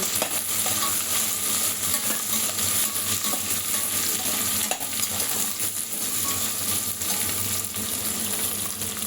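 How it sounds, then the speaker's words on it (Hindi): Chopped onion frying in a pan for namkeen pulao, being stirred: a steady, loud, close sizzle runs throughout with scraping stir sounds, no voices. "अब इसमें हम प्याज चॉप ऐड करेंगे और इसको अच्छे से मिक्स करेंगे।"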